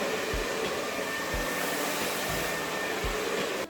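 A hair dryer blowing out a woman's hair during a salon blowout, a loud steady whooshing roar heard close and alone, with soft low thumps recurring about once a second as the brush and airflow shift.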